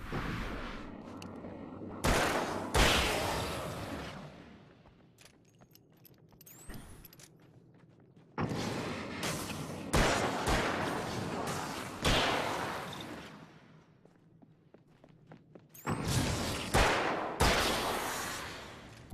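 Rifle gunshots in the video game Alan Wake's American Nightmare, several loud sharp blasts spaced a few seconds apart, each trailing off into a ringing decay with quieter mechanical clicks between.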